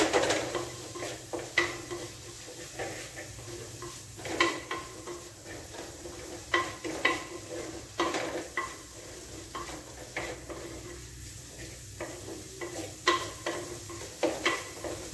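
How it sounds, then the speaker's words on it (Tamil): A utensil stirring a spice mix with water in a pan while cooking an Ellu kovakkai gravy, heard as repeated scraping taps and light sizzling at a steady, unhurried rhythm, with no voices. "லைட்டாக வாட்டர் சேர்த்து இது கூட சேர்த்து நல்லா மிக்ஸ் பண்ணிக்கிங்க."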